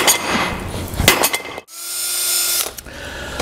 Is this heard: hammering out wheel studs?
yes